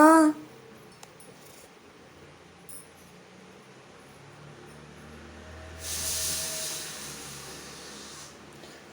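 A pressure cooker releasing steam: a loud hissing burst rises partway through and lasts a couple of seconds over quiet background noise, with no one speaking.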